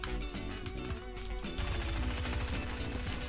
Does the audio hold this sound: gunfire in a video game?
yes